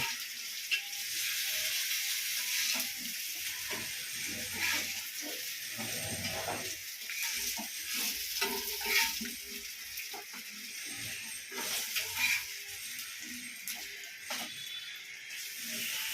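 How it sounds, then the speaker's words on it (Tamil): Fish frying in hot oil for a Pulicat-style fish fry, giving a steady, close sizzle and crackle for the whole stretch with occasional stirring clatter and no talk. "கொஞ்சம் மீன் வறுத்துருக்குறேன், இன்னொரு கொஞ்சம் மீன் வறுக்கணும்ப்பா"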